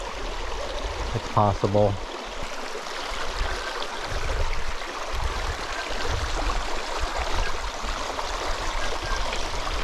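Stream water rushes steadily over rocks on an Appalachian Trail hike, a close and continuous flow, with a voice speaking briefly near the start.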